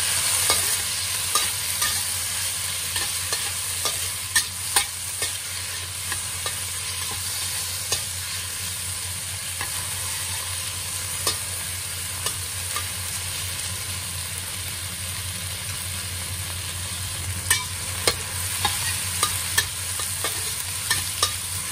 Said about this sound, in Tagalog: ilagay na po natin ang ating kamatis at chili para medyo maanghang